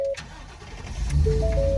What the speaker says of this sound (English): You want to start the truck.